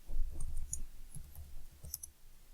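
Keys tapped on a computer keyboard during a software screencast, a faint, irregular run of light clicks at close range with no talk.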